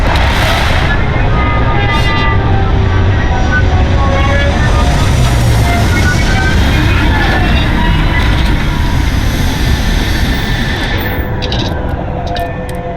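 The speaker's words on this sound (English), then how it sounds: "Landing slot primed. Retros firing." Spaceship retro thrusters firing during landing in the Starfield video game produce a loud continuous engine roar that holds steady throughout, with whining tonal layers shifting over the rumble.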